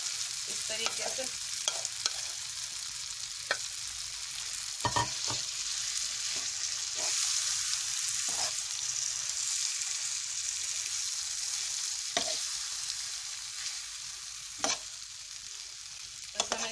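Potato samosa filling frying in a pan, a continuous soft sizzling hiss with occasional sharp taps and scrapes of a spoon stirring, close and steady without talk.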